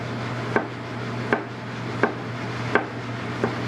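A chef knife cuts through a tomato in five separate sharp chops spaced about 0.7 seconds apart, close and clear over a steady low hum.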